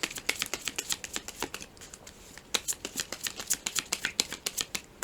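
Tarot cards being shuffled and drawn: quick close-up riffles and flicks, a pause, then another run of crisp card snaps.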